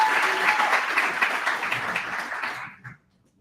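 An audience claps for a speaker walking to the stage at a Toastmasters event, with loud, dense applause that thins out and stops abruptly near the end.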